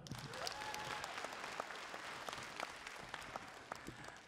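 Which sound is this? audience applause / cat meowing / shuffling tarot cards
audience applause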